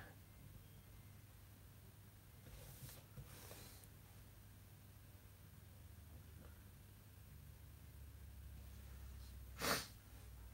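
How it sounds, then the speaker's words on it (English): A person gives one short, sharp sniff close by near the end, after a long stretch of quiet room hum with a couple of faint breathy rustles. "I'm sniffing this time instead of my dog snorting like usual."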